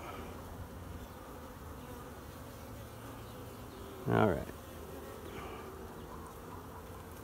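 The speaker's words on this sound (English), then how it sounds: "You can see we got a lot of bees flying around." Many honey bees buzz around an open hive during a late-season inspection, a constant low drone throughout, with someone briefly saying a word midway.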